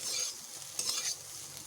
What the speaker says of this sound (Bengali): আলুগুলোকে বেশ ভালোভাবে ভেজে নিতে হবে